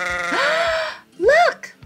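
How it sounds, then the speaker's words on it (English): Two loud, close sheep bleats, the first drawn out and wavering, the second shorter, with a brief pause between. "Look! There are sheep!"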